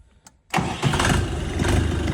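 A Dongfeng 404 G2 tractor engine turns over and catches after a brief quiet moment, then settles into a steady, loud, close diesel rumble as it prepares to drive onto a weighing scale.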